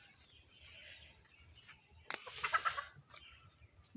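Chickens cluck softly at a rural homestead, with a sudden scratchy burst of rustling and louder clucking near the end, fairly faint overall and without talk.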